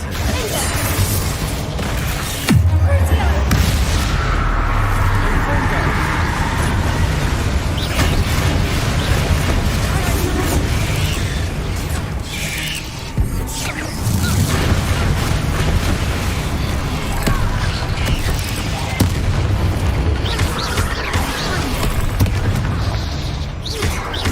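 Bombarda blasting spell going off in the wizarding game Hogwarts Legacy, a heavy booming burst near the start followed by a long rumbling, crashing wash of debris and low thuds that stays loud throughout, with background music underneath.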